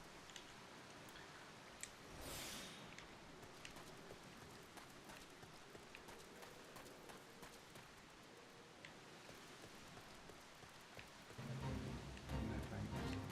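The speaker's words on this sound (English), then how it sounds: "raining now." Rain falling in the Final Fantasy XIV game world, a soft continuous patter with scattered drips and ticks, fairly quiet throughout, swelling louder near the end.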